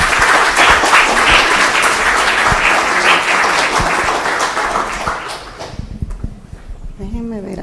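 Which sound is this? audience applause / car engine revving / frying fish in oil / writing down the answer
audience applause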